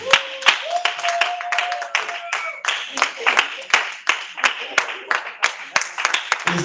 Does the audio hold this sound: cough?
no